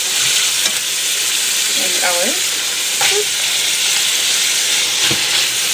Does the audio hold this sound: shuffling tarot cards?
no